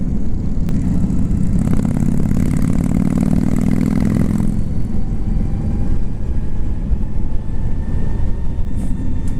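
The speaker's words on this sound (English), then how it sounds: "I can hear those bikes more than I can hear the Livewire." Engines of other motorcycles roar steadily nearby while riding a quiet LiveWire electric motorcycle on the road. A loud, continuous rumble with wind rush fills the whole stretch, then eases slightly partway through.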